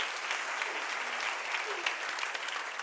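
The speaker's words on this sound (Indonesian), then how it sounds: "Tepuk tangan buat Yesus Tuhan kita." Steady applause from a church congregation at a healing service, a dense wash of many hands clapping together without pause, filling the room with no voices over it.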